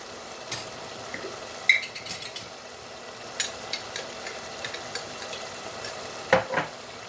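Tomato and pepper paste sautés in a pot with vegetables, a soft steady sizzle broken by occasional spoon stirs and scrapes against the metal, close and without talk.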